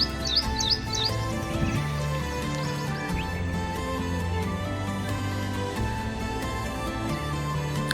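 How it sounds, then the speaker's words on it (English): Songbirds sing in an Indian spring setting, with repeated short chirping notes high in the mix over a steady, dense background hum of other sound. "Very vocal, especially in spring, their song is a long series of repetitive notes"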